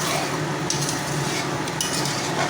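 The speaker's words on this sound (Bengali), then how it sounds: "একটু নাড়িয়ে নেব, যেহেতু তলায় আমার হালকা হালকা একটু লেগে যাচ্ছে।" Chilli paneer being stirred in a pan as it starts catching slightly on the bottom, a steady scraping and soft clinking of the utensil over a low sizzle, close and continuous with no talk.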